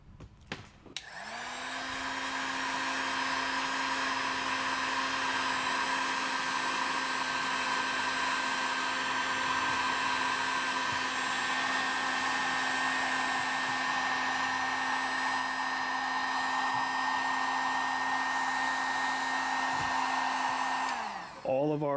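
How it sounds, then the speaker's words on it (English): Heat gun shrinking heat shrink tubing on a crimped cable, a steady whooshing blower hum with a faint whine that runs unbroken for about twenty seconds before cutting off. "Get this heat shrink shrinking on here."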